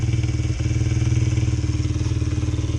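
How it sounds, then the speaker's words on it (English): A Honda XR70 motorcycle with an 88cc BBR big-bore kit idles after carburetor re-jetting, a steady, even, close-up single-cylinder putter with a regular pulsing rhythm and no talk. "I can already tell the idle is way more steady than it was before"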